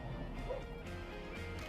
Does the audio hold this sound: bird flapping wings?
no